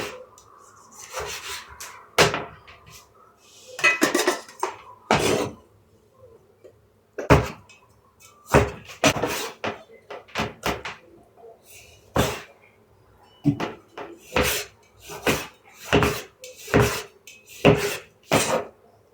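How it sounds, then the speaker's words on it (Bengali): A knife slices through tomatoes on a board in a home kitchen, making a series of close, crisp cutting strokes and taps, irregular at first, then quicker and more rhythmic. "টমাটম কাটা নিতেছে, খিচ খিচ খিচ খিচ করে"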